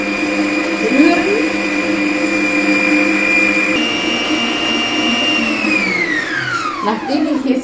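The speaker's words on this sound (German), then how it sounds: "Nachdem ich es jetzt ein paar Minuten gemixt habe, gerührt habe, also Mathilda, sieht das Ganze dann so aus," An electric hand mixer whipping egg whites for a sponge roll runs as a loud, steady motor whine throughout, its pitch holding level before dropping as it slows near the end.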